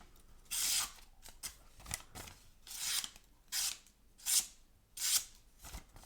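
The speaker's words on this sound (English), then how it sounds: "As you can hear, very silently going through the paper." A freshly sharpened Ruike D191-B budget flipper knife with an HCR13MOV steel blade slices through paper in about eight quick, quiet rasping strokes, each a short papery swish separated by brief pauses, with no talking.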